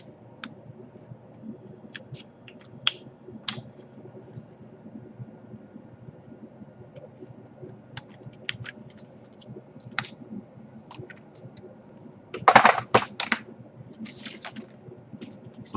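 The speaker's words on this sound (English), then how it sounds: "Now remove the keyboard." A Gateway NV-series laptop keyboard is pried off: faint scattered plastic clicks and ticks over a low hum, then a short louder burst of crackling snaps near the end.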